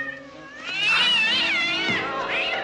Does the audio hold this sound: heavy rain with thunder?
no